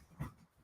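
A puppy pants and gives a brief whimper at close range, one short burst in the middle, with a faint second sound near the end in a quiet room.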